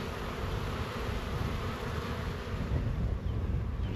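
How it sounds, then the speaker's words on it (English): A honeybee buzzes close to the microphone in an outdoor garden with a steady, continuous drone that swells slightly near the end. Light wind noise sits underneath. "And there's a honeybee."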